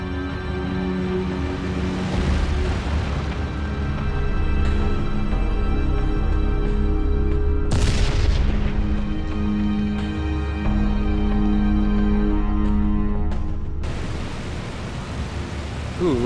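Bomb blast dropped from an Fw-190 A-3 fighter in the Il-2 Great Battles flight game over Stalingrad, a sharp explosive burst rising over a steady, loud drone of the aircraft engine.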